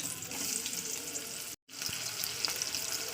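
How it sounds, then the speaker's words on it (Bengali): Chopped onion hitting a small amount of hot oil in a pan gives a steady, close sizzle that is broken by one brief silent gap partway through, then carries on evenly. "পেঁয়াজটাকে প্রথমে আমি লাল দিকে ভাজা করে নেবো"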